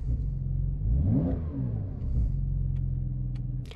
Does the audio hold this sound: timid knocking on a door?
no